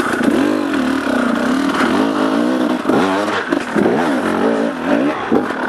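Dirt bike engine on an enduro step climb, revving hard with repeated sharp throttle surges and dips as the clutch is kicked, close and loud with faint scraping and clatter.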